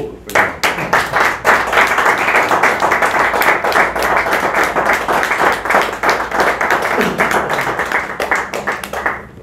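Audience at a Gabonese presidential campaign event in 2023 applauding loudly and steadily, a dense wash of many hands clapping that holds for the whole stretch with faint voices mixed in.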